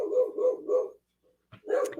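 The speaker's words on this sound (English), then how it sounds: "the dog is barking" A dog barks close by indoors, a quick run of three deep barks followed by a short pause and then one more bark.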